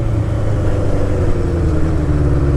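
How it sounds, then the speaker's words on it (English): A 1985 Kawasaki GPZ 900 R motorcycle engine drones loudly and steadily at high RPM during a test ride, a close, continuous mechanical roar without a break. "this bike just wants to live in those higher RPMs"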